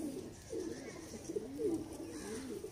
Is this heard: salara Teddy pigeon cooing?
yes